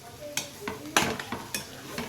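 Egg rice with chopped coriander being stirred and fried in a pan, a spatula scraping and clinking against the metal in short strokes over a steady soft sizzle, close up with no one talking.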